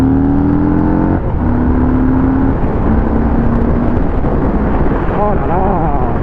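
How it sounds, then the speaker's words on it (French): A 2022 Harley-Davidson Street Bob's exhaust rumbles loud and close with steady revving and rising engine pitch. "le son à l'échappement, moi je le trouve un peu feutré"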